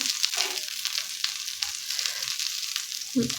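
Masala-stuffed okra shallow-frying in a little oil gives a steady bright sizzle throughout, with a few soft clicks and a low thump near the end as the pods are turned in the pan.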